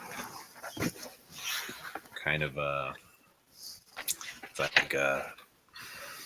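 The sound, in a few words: voice imitating a hoarse, whispery growl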